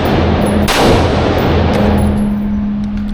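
Gunshots from a Glock 19 pistol fired outdoors: one loud, close blast ringing out over a steady background hum, with no talking.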